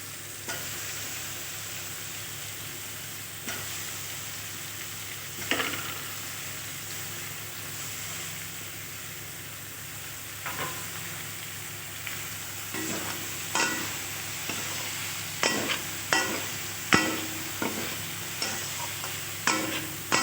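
Broccoli stir-fried with spices and peas in a pan, a continuous steady sizzle with repeated scraping stirs and spatula clacks that come more often toward the end.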